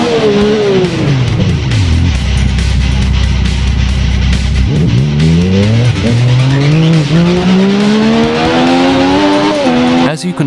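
Loud, continuous motorcycle racing from the Ride video game, with engines revving up and down through gear shifts and whining climbs, plus tire squeal, running throughout; talk is not clearly heard.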